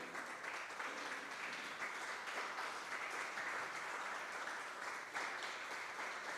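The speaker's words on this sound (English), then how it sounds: "Please, applause." Steady applause from a festival audience greets a performer on stage, a continuous wash of many hands clapping at an even level, heard faintly and from a distance.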